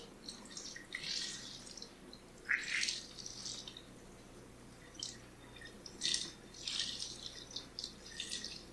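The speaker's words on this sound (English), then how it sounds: "So I'm going to rinse it and add some more soap." A makeup beauty blender sponge being rinsed under running water, with faint intermittent splashing and dripping bursts over a low steady hum, close and quiet.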